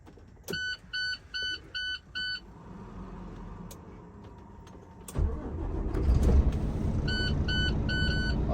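Semi truck engine being started during a CDL four-point air brake test in the cab: a few regular dash warning beeps, then the engine cranks and catches into a steady, louder idle rumble as the beeps return.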